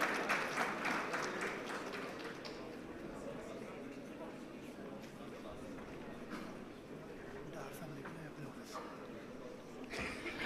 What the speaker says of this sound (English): Let's have a big round of applause for him as well.